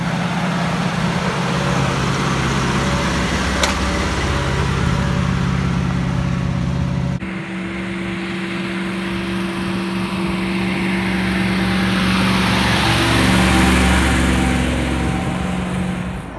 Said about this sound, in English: Look like this truck here, got no idea what this is. Could be 50 years old.